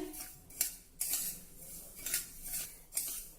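Finger millet dry-roasting in a pan over a low flame, with light scraping and clinking of a utensil against the pan recurring every half second or so, fairly quiet and close, with no talk.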